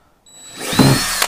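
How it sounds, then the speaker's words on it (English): A power drill fitted with a 3/32 drill bit whines up to speed and bites into the rear door of a 4th-generation RAM 1500/2500 truck, a short, loud, close burst of high-pitched grinding. "I think this was a 3/32 drill bit"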